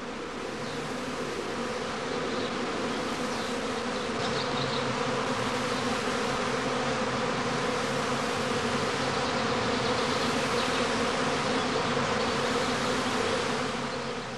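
Dense, steady buzzing of a honey bee swarm around straw swarming skeps, continuous and close throughout with no voices.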